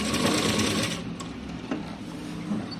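Sewing machine stitching across folded saree pleats, a steady mechanical whirr running throughout at close range, slightly busier in the first second and then continuing evenly.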